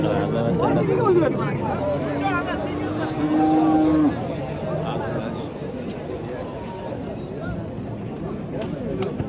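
Cattle at a livestock market low in a long drawn-out moo, heard over a busy crowd of people talking, with the animal call standing out briefly amid the steady babble.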